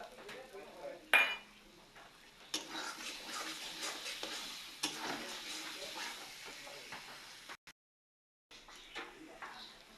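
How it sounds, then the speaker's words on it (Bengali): Chopped tomatoes dropped into frying masala spiced with salt and oil in a pan for a rohu fish curry with potatoes, giving a sharp clatter, then steady sizzling with scraping and stirring clinks, a brief pause near the end. "এখন কেটে রাখা টমেটো দিয়ে দিব।"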